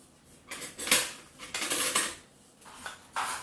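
A spoon mixes oats and granola in a bowl, giving a few bursts of scraping and clinking, close and fairly loud, with short pauses between strokes and no talk.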